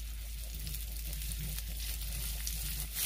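Garlic sizzling in hot oil in a pan, a steady close-up hiss that holds evenly throughout with no one talking.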